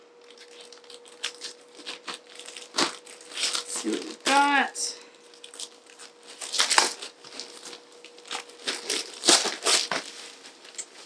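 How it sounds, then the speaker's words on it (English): Sewing machine packaging for a Bernina 570 QE being cut open with scissors, plastic wrap crinkling and tearing in bursts close by, with a person talking over parts of it. "Guess I need some scissors to open this up."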